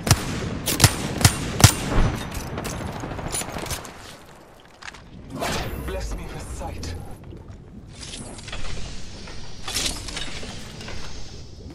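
Gunfire in the battle royale game Apex Legends: a rapid cluster of loud close shots up front, then scattered blasts, mechanical clatter and shield-recharge effects over busy game noise.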